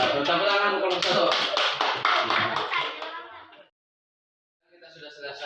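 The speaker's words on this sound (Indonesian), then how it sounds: "Tepuk tangan kalau satu." Hands clap in a quick rhythmic pattern for about three and a half seconds, bright and close, then stop. After a short silence a burst of voices follows.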